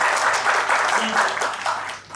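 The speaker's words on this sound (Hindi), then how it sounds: "इस बात पे ताली बजा दें." An audience at a college orientation gathering claps together, a brief burst of moderately loud, dense applause that tapers off at the end.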